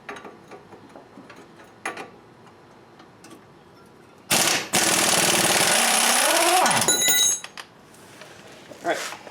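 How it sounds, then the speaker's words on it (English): A pneumatic impact wrench hammers loudly in one sustained burst of about two and a half seconds, zipping out a front strut bolt on an MK4 Volkswagen Jetta, with quieter clicks and shop sounds around it. "I'm just going to zip it out with the impact on the other side"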